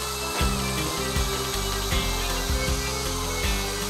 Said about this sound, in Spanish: con un taladro y una broca para madera, vamos a hacer unos agujeros guías hasta el fondo ahí